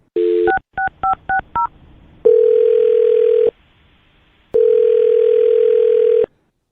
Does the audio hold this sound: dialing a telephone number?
yes